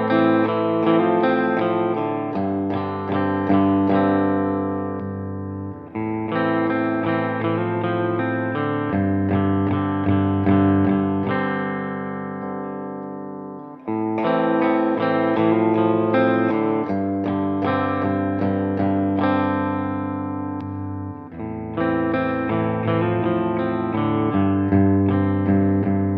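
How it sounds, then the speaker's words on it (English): A clean electric guitar, an Ibanez RG 5121-BCF through a plate reverb, plays sustained chords and arpeggiated phrases with a spacious reverb tail, steady and fairly loud, with no voices. "I've got it on a plate reverb with about that much mix just for some ambiance"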